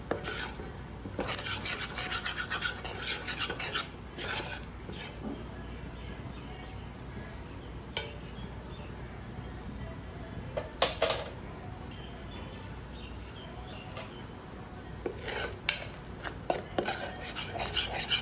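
A spoon scrapes and rubs through besan (gram flour) roasting in a pan for Sindhi kadhi, with steady close scratching and occasional sharper clinks against the metal, and some faint background sounds.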